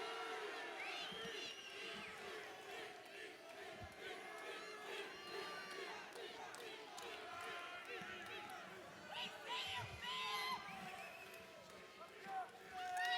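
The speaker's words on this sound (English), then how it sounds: "Crowd roars." A packed bodybuilding arena roars and cheers continuously at the 2014 Mr. Olympia in Las Vegas, with loud crowd noise, whistles and shouts building toward the end.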